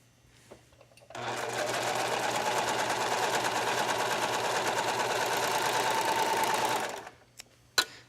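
A sewing machine runs a continuous stitching burst for about six seconds along the shoulder seam of a tank top, starting and stopping abruptly, close and steady with no talking.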